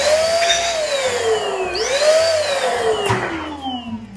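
A small electric balloon pump runs continuously, its motor whine sweeping up and down in pitch as the load changes while a balloon inflates, loud and close throughout, with no talking.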